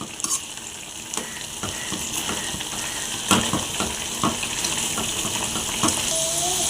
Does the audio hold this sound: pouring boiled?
yes